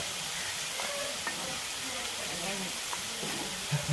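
Chopped garlic and ginger sizzle in hot oil, a steady close hiss with faint crackles running evenly throughout.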